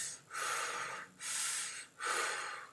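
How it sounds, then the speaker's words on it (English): Stomach breathing demonstrated by a vocal coach teaching metal screaming technique: three strong, airy breaths in a steady rhythm, close and loud, each a long hiss of air separated by brief pauses. "and then you can breathe through your stomach, which is like a."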